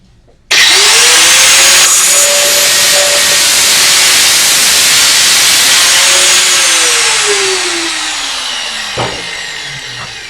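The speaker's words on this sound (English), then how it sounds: "let's cut this PVC and we'll talk a bit more after that" A multi-cut disc on a power tool slices through PVC pipe with a loud, sustained hissing whine that starts abruptly, holds steady for several seconds, then slowly fades as the cut finishes.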